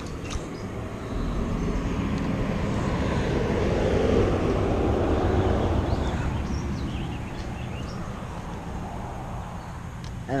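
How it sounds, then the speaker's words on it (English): Steady traffic noise drifts over a bass fishing spot, a broad continuous rumble and hiss that swells and fades slightly, moderately loud, with faint outdoor ambience. "I'm sorry for the traffic noise"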